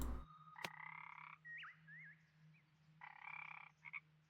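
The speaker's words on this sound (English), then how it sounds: "I heard the frog before I saw it." A frog in a video game gives a series of clear croaks, bright warbling tones that repeat in short bursts with brief chirping slides between them, close and alone over a faint low hum.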